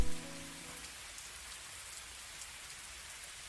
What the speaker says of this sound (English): the rain's apathetic pattering